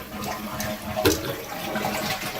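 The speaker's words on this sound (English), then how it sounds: "it has one of these super flush elements where it just uses a little over a gallon, which is a little bit of water. You flush it." A low-water toilet with a super-flush mechanism rushes and gurgles close by in a small powder room, a steady, fairly quiet whoosh of water lasting the whole moment.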